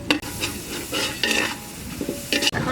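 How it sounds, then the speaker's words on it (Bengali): Onion, ginger-cumin paste, salt, turmeric and chili frying together in a pan for chicken and potato curry, with several sharp spatula scrapes and clanks over a constant close sizzle. "মশলাগুলো এখন সুন্দর করে কষে নেব।"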